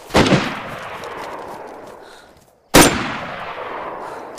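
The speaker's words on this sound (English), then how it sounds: "I just fired a quick shot because I didn't know what gun he had then" Two sharp, loud gunshots ring out in the video game DayZ, about two and a half seconds apart. Each crack is followed by a long echoing decay.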